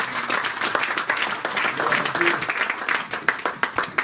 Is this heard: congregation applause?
yes